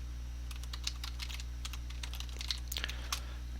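Typing on a computer keyboard, a steady run of light, quick key clicks with uneven rhythm and a few faster flurries, close but fairly quiet over a constant low hum.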